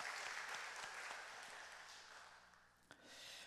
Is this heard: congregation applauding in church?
yes